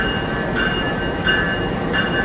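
CC06 1384 diesel locomotive of the Ranggajati train shunts in on track 3, a steady loud rumble of engine and rail noise with a faint repeating rhythmic clank.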